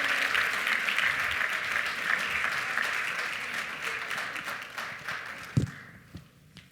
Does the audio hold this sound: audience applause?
yes